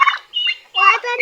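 A turkey gobbles nearby in quick warbling bursts, loud and clear against silence, three short calls in rapid succession.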